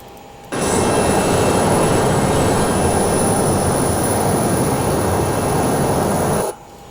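A light aircraft's engine drones loud and steady as it climbs after takeoff with gear and flaps retracted, a broad continuous roar holding level throughout and starting abruptly just after the opening.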